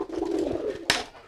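Homing pigeons cooing during early training, a close low throaty coo followed by a sharp brief flutter or clap, with no talking.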